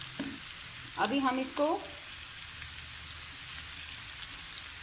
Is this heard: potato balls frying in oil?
yes